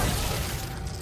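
A spell-driven shatter in Hogwarts Legacy as Glacius and Reductor break a frozen enemy apart, a dense crunching burst that stays loud through the short moment and then thins, with no talk over it.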